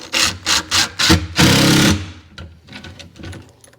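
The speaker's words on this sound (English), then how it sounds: "And we're going to put the pocket hole screws in." A power drill drives pocket hole screws into a microwave drawer cabinet in several short loud bursts, then one longer whir, followed by softer knocks and handling noise.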